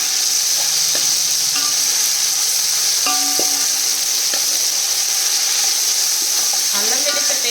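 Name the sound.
ginger garlic paste frying with onions in pan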